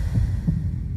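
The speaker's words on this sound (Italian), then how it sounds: "Un battito." A heartbeat sound effect in a TV channel promo for Sky Crime: two deep, muffled thumps about a third of a second apart over a low hum.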